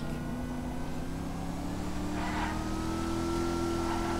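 A gold-plated SUV in GTA 5 drives along with a smooth, steady engine hum that rises slightly in pitch, constant and fairly loud with no speech.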